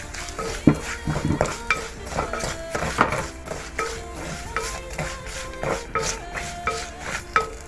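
Fried chili pieces are added to sugar sambola in a pan, with clattering spoon-on-pan knocks, scraping and stirring noises in an uneven rhythm, close up and fairly loud.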